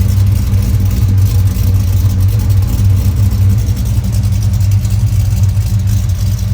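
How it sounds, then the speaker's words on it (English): 1971 Chevrolet Monte Carlo engine rumbling through its exhaust pipes, a loud, deep, throaty idle with light revving, steady and close. "Great sound out of these pipes."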